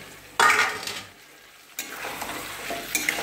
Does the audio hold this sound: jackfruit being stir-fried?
yes